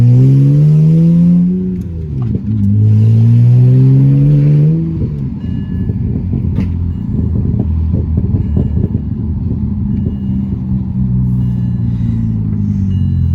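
A manual-swapped BMW 335i accelerates hard up a street, its engine revving up through a gear with rising pitch, dropping on a shift, then settling into a loud steady rumble close by.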